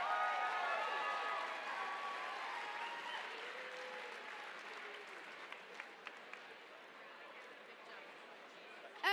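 Audience applause at a Spartanburg celebrity dance competition, a dense wash of clapping from a large crowd that starts loud and slowly thins, with a few scattered sharp claps and voices underneath toward the end.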